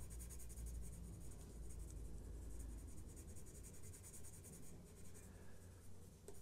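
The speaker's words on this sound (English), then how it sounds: "And I'm literally still using the flat of the pencil." Pencil shading on paper using the flat side of the lead while drawing a portrait, a steady soft scratchy rasp running continuously and close up, with no talk.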